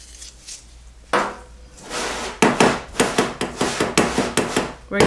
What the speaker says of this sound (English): We're tapping it to kind of break the suction in the seal.